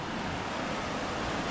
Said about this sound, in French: les piscines naturelles. C'est trop bien, à l'abri des vagues.